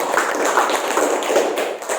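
Children clap their hands together in a classroom, a dense and fairly close patter of many small palms that keeps going steadily for the whole two seconds.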